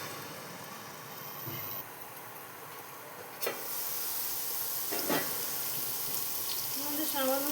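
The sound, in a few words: potatoes lightly frying in a pan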